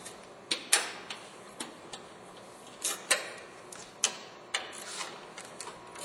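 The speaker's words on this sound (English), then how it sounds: "now let's remove our two 10mm top bolts" A 10mm ratchet loosens the top headlight bolts on a Ford Focus, giving quiet, irregular clicking ticks, some single and some in quick pairs, spread over a few seconds with no voices.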